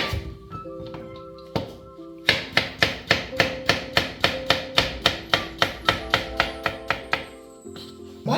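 Knife slicing raw potatoes for frying on a cutting board in a home kitchen, a steady series of sharp, close chopping knocks at an even rhythm, a few scattered cuts first and then a run of regular strokes, with no talk.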